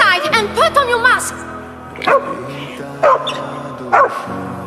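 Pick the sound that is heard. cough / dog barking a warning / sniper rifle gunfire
dog barking a warning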